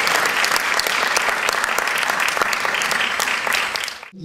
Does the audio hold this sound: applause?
yes